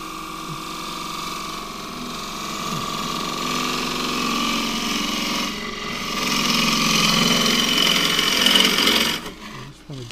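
Green casuarina spins on a wood lathe while a 3/8 deep bowl gouge cuts a small bowl, giving a steady, close, rasping drone that grows a little louder before cutting off near the end.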